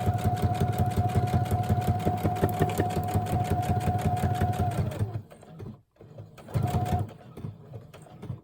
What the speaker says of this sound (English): I did forget to back stitch down here, so I'm going to have to do that now